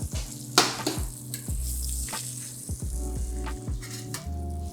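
Meat fries hard in a hot pan in a restaurant kitchen, a steady loud sizzle broken by several sharp metallic knocks and scrapes of the pan.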